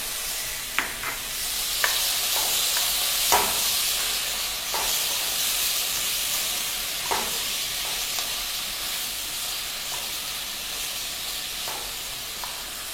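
Tomato and ginger garlic paste fry in a hot pan, giving a steady close hiss with a few sharp stirring clinks and scrapes scattered through, no voices.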